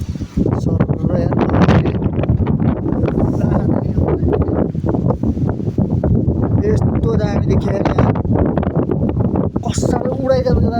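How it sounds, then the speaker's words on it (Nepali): Strong wind near Gorkha Durbar buffets the microphone in constant roaring gusts, with someone talking throughout. "कसैले उडाइजान्छ जस्तो हावा चलिसक्यो"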